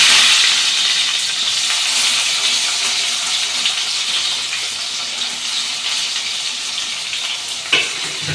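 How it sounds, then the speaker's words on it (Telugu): Onion, tomato, cumin, mustard seeds and curry leaves frying in hot oil give a steady, loud sizzle throughout, with a brief sharper crackle near the end and no talking. "దీంట్లో కొంచెం జీలకర్ర ఆవాలు, కొంచెం కరివేపాకు, దీంట్లో కట్ చేసుకుని ఉల్లిగడ్డ టమాటా అయితే వేస్తా"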